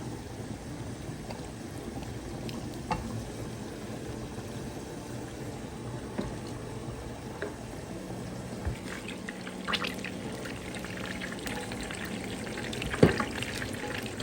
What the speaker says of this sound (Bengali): তো এখন হচ্ছে এই সাইডটা ফ্রাই করে দেবো।